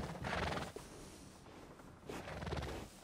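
A horse in Red Dead Redemption whinnies loudly in two long neighing bursts, close and clear, with a brief pause between them and no talk over it.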